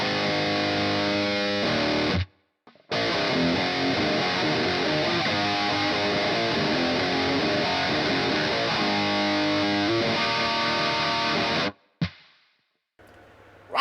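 Heavy, crunchy distorted electric guitar riffing loudly through a ToneLibFX amp simulator, with a short silent gap early and another near the end before a final burst.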